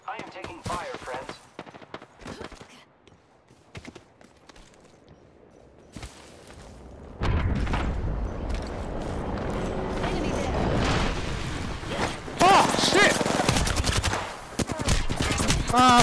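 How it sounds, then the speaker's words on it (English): Bursts of automatic gunfire in the battle royale shooter Apex Legends, rapid crackling volleys that grow denser and louder in the second half, mixed with game effects and occasional voices over the action. "I am taking fire, friends."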